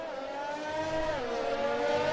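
Formula 1 race car engine in an F1 video game, a brief faint steady whine that rises slightly in pitch, heard alone.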